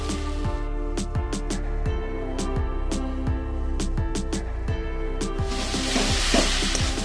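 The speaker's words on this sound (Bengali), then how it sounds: "মশলাটা এবার ভালো করে কষিয়ে নেবো" Turmeric and chilli powder masala sautéing in a pan for Bengali crab curry, a steady loud sizzle broken by repeated rhythmic scrapes of a spoon against the pan, with a brighter hiss swelling near the end.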